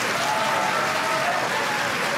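Studio audience at a German television talk show applauding steadily, a dense, even wash of clapping throughout with faint voices mixed in.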